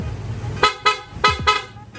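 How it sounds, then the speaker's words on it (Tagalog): Aftermarket loud horn fitted to a Honda Click v3 motorcycle, sounding four short, loud blasts in two quick pairs, close by, after a low idling hum. "pa-activate naman ng loud horn"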